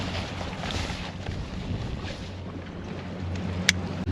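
A sailboat running under just the jib, with steady rushing wind and hissing water close to the microphone, and a brief sharp tick near the end.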